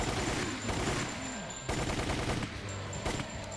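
Gunfire from the video game Resident Evil: The Umbrella Chronicles, a dense string of rapid shots with sharp bursts near 1.7 and 3.1 seconds over a steady game background, with no talk.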